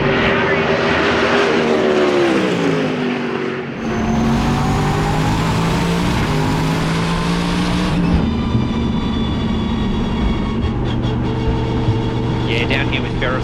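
Twin-turbo Corvette race car on track at the World Time Attack Challenge 2023, a loud, continuous engine roar rising and shifting pitch through gear changes, with a commentator talking over it.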